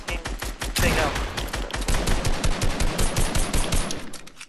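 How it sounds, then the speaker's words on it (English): Automatic gunfire in a multiplayer shooter video game, a loud, fast rattle of repeated shots in continuous bursts with one sharper burst early on, and a player's voice talking over it. "I'm trying to shoot that fucking thing"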